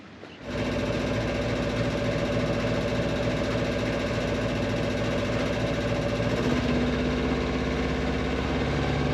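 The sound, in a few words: boat engine starting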